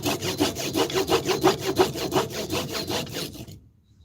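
A cheap, dull $3 Harbor Freight handsaw cuts through wood in a steady run of about a dozen rasping back-and-forth strokes, close and fairly loud, before stopping abruptly into silence.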